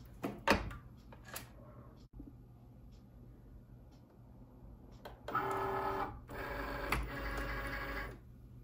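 A Cricut cutting machine whirs and clicks as it draws the mat in: a few sharp clicks early, a quiet stretch, then two sustained mechanical motor runs near the end, with no talk.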